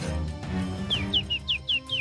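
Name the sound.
nightingale singing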